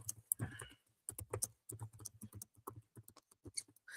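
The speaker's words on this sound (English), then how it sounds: "That is horrible typing." Quick, irregular tapping of computer keys, loud and close, sounding like uneven typing.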